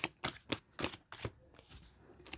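Tarot cards are shuffled by hand in quick riffling bursts, about six sharp papery snaps in an uneven rhythm with a short lull before a final flurry, close and fairly quiet with no talking.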